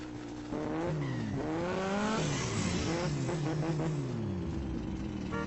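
A car engine revs hard and loud, pitch climbing and dropping through repeated gear shifts, with a brief tire squeal, close and continuous.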